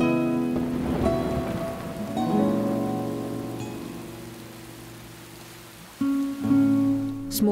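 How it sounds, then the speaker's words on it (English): Steady rain falls in a humid Chinese forest canopy, a soft continuous patter beneath prominent sustained tonal sounds that swell and fade throughout. "In this forest, the rains are very welcome, bringing a release to the humidity."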